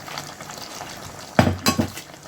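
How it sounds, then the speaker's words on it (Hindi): Boiled chickpeas tipped into a pot of chicken curry for chicken choley, giving two close, sharp clattering impacts with a brief wet splash, the first louder and the second following about a quarter second later, over quiet kitchen background. "अब इसमें हम ऐड करेंगे उबले हुए चने"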